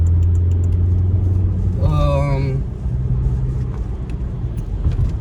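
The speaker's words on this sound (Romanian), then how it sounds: "uite ce rotund sună motorul iarăși" A Volkswagen Passat engine hums with a low, steady rumble throughout, briefly joined by a rising whine, without clear speech.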